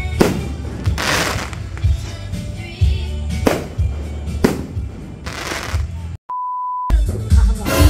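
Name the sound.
fireworks on New Year's Eve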